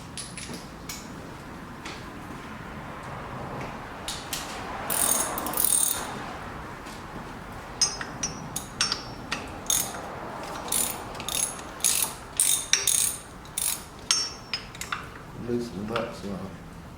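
A ratchet with an extension clicks in quick bursts while loosening a tight bolt at an awkward angle on a 2004-2012 Chevy Colorado engine, with short metallic ratcheting runs separated by pauses and some light clanks nearby.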